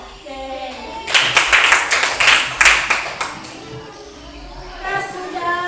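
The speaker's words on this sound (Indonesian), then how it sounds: "tepuk tangan untuk Aika" Children in a classroom break into a burst of clapping for a classmate, several seconds of close, uneven hand claps that fade out, with faint talk before and after.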